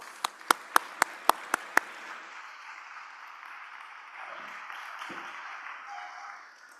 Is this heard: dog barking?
no